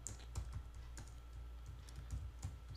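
Steady keyboard typing as C++ code is entered on a computer, a run of close, light key clicks with a few louder taps, heard alone without voices.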